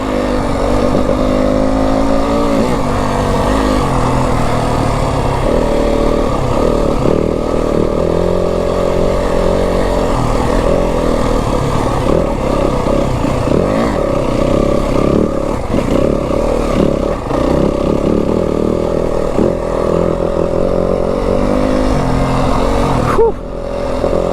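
A Yamaha WR250F dirt bike ridden on Flagstaff single-track trail, its single-cylinder engine loud and close, revving and shifting continuously over uneven ground with throttle blips and bogs, wind buffeting throughout.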